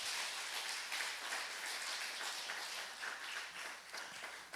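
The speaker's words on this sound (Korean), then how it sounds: "박수 한번 보내주시기 바랍니다." A church congregation gives a round of applause during a Sunday service, a soft, steady spread of many hands clapping heard from some distance in a reverberant room.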